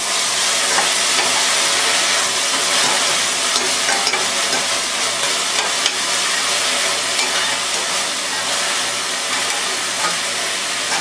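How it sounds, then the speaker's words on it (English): Half an onion sautés in a pan for an Indian mushroom gravy, giving a loud, steady sizzle and hiss with stirring throughout and no talking. "We will saute this."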